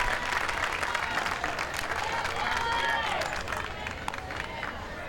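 Crowd applause and cheering at a 2021 PGF Futures All-American junior baseball game after a base hit, a broad steady wash of clapping and hubbub under a commentator's voice.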